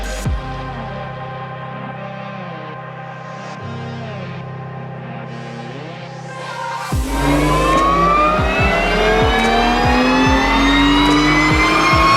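A turbocharged BMW E36 engine on a dyno drones through gear steps, then rises into a loud, sustained wide-open rev with a climbing whine, near and continuous throughout.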